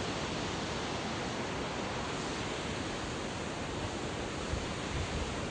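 Waterfall near Rainbow Bridge in Nantou, Taiwan, a dense, continuous rushing roar of falling water, steady and broadband with no voices.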